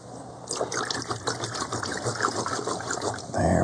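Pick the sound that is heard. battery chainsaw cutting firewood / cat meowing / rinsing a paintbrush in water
rinsing a paintbrush in water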